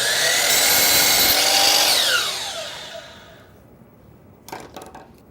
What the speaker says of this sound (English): I'm going to cut it in half and then flip those end for end